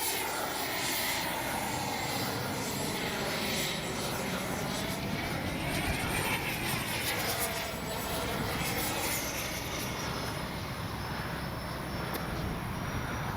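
Freewing Yak 130 RC model jet with a 70mm ducted fan flying overhead, a loud continuous whooshing roar that swells and recedes with Doppler sweeps as it passes, steady throughout.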